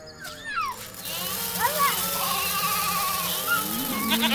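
A goat bleats several times in wavering, nasal calls, fairly close and clear over a low background hum.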